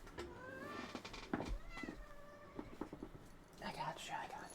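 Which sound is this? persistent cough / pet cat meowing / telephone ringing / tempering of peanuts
pet cat meowing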